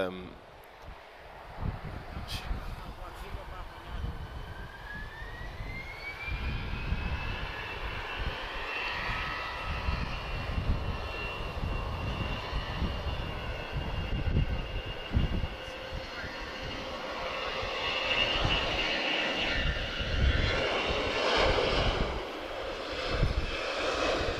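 Jet engines of aircraft at Lisbon Airport roar steadily with a rising whine partway through, a continuous loud drone from taxiing and departing planes, with someone talking over the noise.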